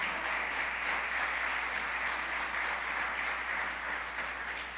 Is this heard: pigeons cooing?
no